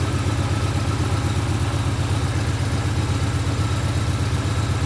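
A Hyosung GV250 motorcycle, a barn find brought back to life, runs at a steady idle close by, its engine pulsing evenly with a low, throbbing rumble and no voices over it.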